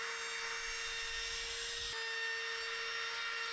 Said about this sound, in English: So I'm just going over the ends here with a chamfer.